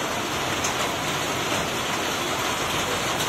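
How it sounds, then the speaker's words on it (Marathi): Heavy monsoon rain falls steadily and loudly outdoors at a roadside junction, a dense unbroken hiss of drops hitting the ground and surfaces. "हे बघा पाऊस पडते"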